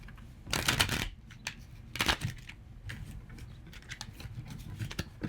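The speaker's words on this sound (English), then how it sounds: "Nearing the end of the shuffling" Tarot cards being shuffled by hand, close and fairly quiet, in several brisk riffling bursts separated by softer sliding and tapping.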